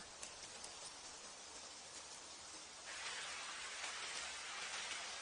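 Rain falls steadily in an animated scene, a soft continuous hiss that thickens and grows a little louder partway through, with no voices.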